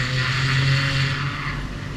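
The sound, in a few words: telehandler work platform engine running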